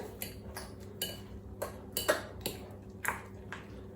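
Granulated sweetener being stirred into a mixing bowl with a utensil, giving a series of light clinks and scrapes roughly every half second, close and fairly quiet, with no talking.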